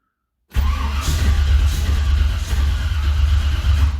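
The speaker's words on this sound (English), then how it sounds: "So that was that brake clean firing." The engine of a 1978 Ford Courier catches on brake cleaner after a moment of silence and settles into a low, rough running rumble that stays close and loud for several seconds.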